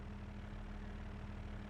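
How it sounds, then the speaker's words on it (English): In the Cattle and Crops farming video game, a tractor engine gives a faint, steady low drone with a constant hum. It is heard alone for under two seconds. "And you'll hear the noise of the tractor changing."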